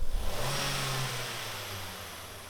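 A car engine revs up during a sensor wire test in a mechanic's workshop, a brief loud rise in engine roar that eases into a steady hum, close by.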